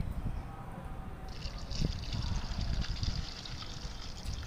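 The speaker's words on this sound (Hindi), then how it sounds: "अब मैं इसके अंदर एक जग और पानी का शामिल करूंगी" Water from a second jug pouring into a cooking pot while making carrot murabba, a steady close trickling gush lasting throughout, growing brighter midway.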